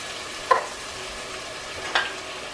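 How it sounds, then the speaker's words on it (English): A spoon scrapes twice through a pot of lentil soup with crushed tomatoes, two short stirring strokes over a low steady simmer, with no voices. "Stir that in."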